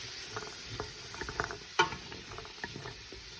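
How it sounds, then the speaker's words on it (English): Homemade vegetable soup being stirred in a pot, quiet close scraping and light clinks of a utensil against the pot with one sharper knock, faint and intermittent, with no talking. "I'll give this a little stir"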